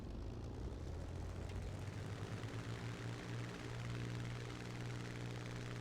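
A Spitfire Mk IX fighter's propeller engine drones steadily at close range in the War Thunder flight game, a continuous loud hum with a low tone that rises slightly in pitch partway through.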